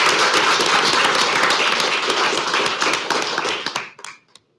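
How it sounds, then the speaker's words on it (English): Applause for an award recipient at a City of El Centro council meeting, many hands clapping in a dense, loud burst that holds for several seconds, then thins to a few last claps and stops. "She still deserves an applause"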